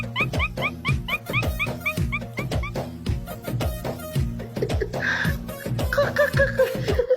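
A dog at home barks loudly and close in a quick, steady run of sharp yips, then shifts into high whining whimpers. Faint laughter may be heard near the end.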